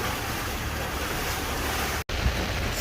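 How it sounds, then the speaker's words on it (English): Ocean swells and choppy water wash around a sailboat off Port Fourchon, a dense steady roar of surf and wind buffeting the microphone, with a short dropout near the end and no talk. "We're starting to get all these swells and chop."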